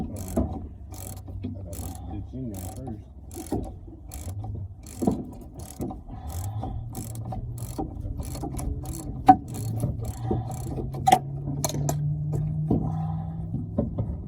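A hand ratchet works at 20-year-old bolts on the rear strut of a Mitsubishi Eclipse, giving close, repeated bursts of rapid clicking with pauses between strokes, plus occasional metallic knocks and a low mechanical hum underneath.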